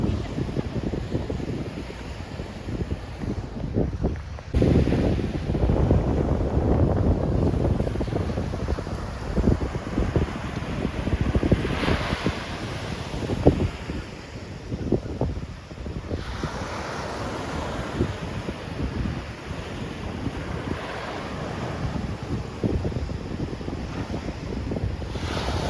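Huge ocean waves and strong wind heard from a boat off Oualidia, with a constant roar of surf and heavy wind buffeting the microphone, loud and continuous with surges throughout.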